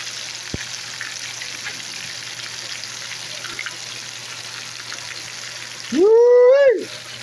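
Catfish frying in hot oil makes a steady, close, continuous sizzle and crackle that runs throughout, with a short loud squeal of another sound near the end.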